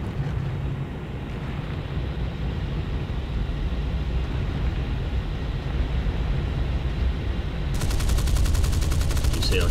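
Jet cannon fire in an air combat game with British jets: a steady engine and wind roar, then a loud rapid buzzing burst of cannon fire erupting near the end.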